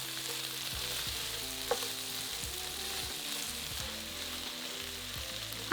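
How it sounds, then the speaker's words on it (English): Garlic, ginger, thinly sliced chilli and cardamom pods frying in a pan for a prawn curry, giving a loud, even sizzle with low stirring knocks and no voices. "then fry for about 2 to 3 minutes until just starting to soften"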